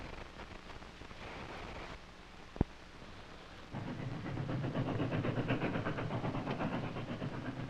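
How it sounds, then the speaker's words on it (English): A train on a sound-identification record, heard as a steady broad rumble that swells louder partway through into a sustained rolling roar, with a brief sharp click just before. "It's a train."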